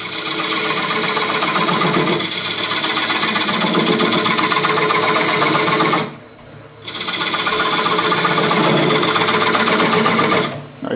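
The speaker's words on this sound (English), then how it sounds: "So I'm going to go in with my skew chisel, straight in. And I can remove all this wood by scraping." A skew chisel scrapes straight into wood as a bowl spins on a lathe, giving a loud, continuous, buzzing drone that cuts out briefly once and then resumes, heard alone without talking.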